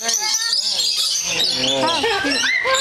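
Lorikeets chirp and screech in an aviary, a dense, continuous chatter of shrill, sweeping bird calls close by, with some speech mixed in.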